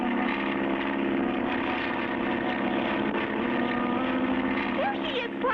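A propeller airplane in a cartoon drones steadily and loudly through the whole stretch, its engine tone wavering slightly, with a voice briefly speaking over it near the end.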